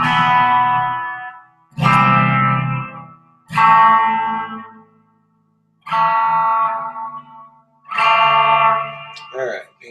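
Clean electric guitar tone with no distortion, played as five separate ringing strummed chords with short gaps between them, loud and close, with a brief squeak at the end.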